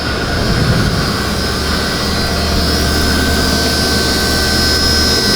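A 1911 or 2011 pistol slide is machined for an optic cut in a workshop, making a loud, steady whirring and grinding drone that runs unbroken throughout with no pauses.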